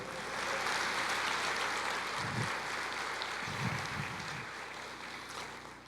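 A church congregation applauds during a sermon, producing a steady, soft wash of many hands clapping together that holds for several seconds at moderate distance and then tapers slightly.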